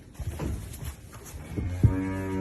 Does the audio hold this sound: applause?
no